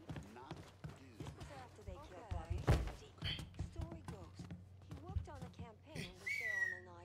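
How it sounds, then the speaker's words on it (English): A short, high whistle sounds in the Mafia 3: Definitive Edition video game, rising briefly above game footsteps and thuds while a player talks over most of the scene. "It was a whistle."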